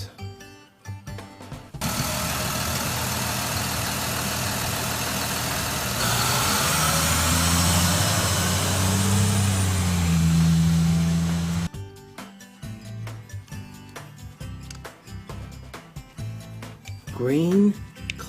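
A green school bus engine idles steadily for about ten seconds, a low continuous rumble, with short clattering and musical sounds before and after it.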